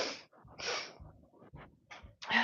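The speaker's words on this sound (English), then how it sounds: "I'm going to blow my nose." A person blows their nose in a few sharp, breathy bursts and snorts, close and moderately loud, with no talking.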